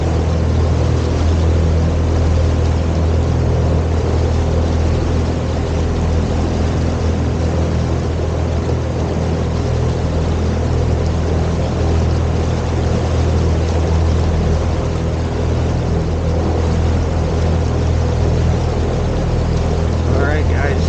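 Donzi speedboat engine roaring steadily at high speed, around 2400 RPM with a 12-inch-pitch propeller, a loud continuous drone mixed with rushing wind and water throughout, no speech.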